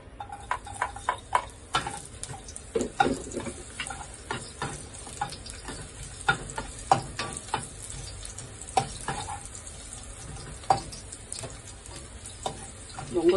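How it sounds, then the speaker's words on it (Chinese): Garlic sizzles in oil in a hot wok over medium heat while a utensil stirs and scrapes it, giving steady close frying hiss punctuated by irregular clattering taps. "咁而家烧热咗个镬先，咁就爆下啲蒜头嘅"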